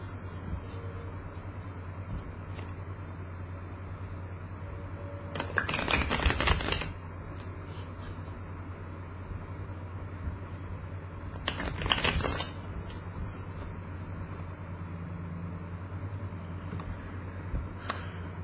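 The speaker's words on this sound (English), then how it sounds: "I need to shuffle again." Tarot cards are shuffled twice, each time as a brief crisp riffling flutter over a steady low background hum in a quiet room, with no talking.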